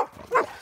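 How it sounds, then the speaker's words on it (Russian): A dog gives one short, sharp bark close by at an indoor spot, with a soft hum before and after it. "Марточка, не надо, не гавкай"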